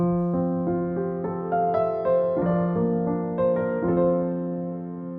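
A sampled piano, Fracture Sounds Spotlight Piano, plays notes gently in a slow, sustained sequence, the chords ringing softly and evenly without any voices.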